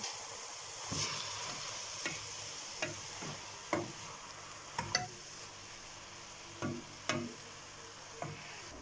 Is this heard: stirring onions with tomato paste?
yes